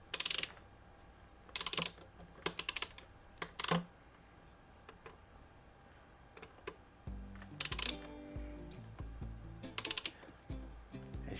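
Small metal clicks and scraping as a screwdriver works a screw loose from the grip frame of a Crosman 1322 air pistol, in scattered short bursts with quiet gaps, close up and without talk.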